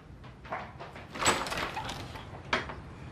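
A door opening in a home, giving a soft handling sound and then a sharper knock of the door swinging at the end, with faint movement around it and no talk.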